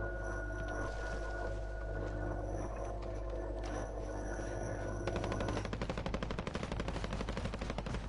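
Rapid automatic gunfire in a military shooter video game, loud and continuous bursts that grow denser and harsher toward the end, over a steady droning background with no talk.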